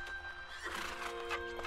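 A horse in the Mount and Blade Warband video game gives a clear, fairly quiet whinny with faint hoof clip-clops, rising and trailing off over under two seconds with no talking.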